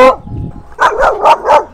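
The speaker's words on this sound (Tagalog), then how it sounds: "Dami aso." Several dogs bark near a quiet rural home: one sharp bark at the start, a short low whimper or growl, then four loud barks in an even rhythm, with no talking.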